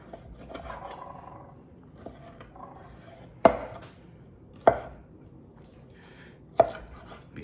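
Knife chopping pieces of ribeye fat on a cutting board, three sharp, well-spaced thunks over soft rubbing and shuffling, close and clear with no talking.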